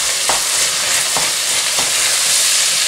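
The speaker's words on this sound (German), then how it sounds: "Umrühren." Tomato paste and minced meat being stirred in a frying pan, a steady close sizzle with a few distinct scraping strokes of the spoon across the pan, no talking.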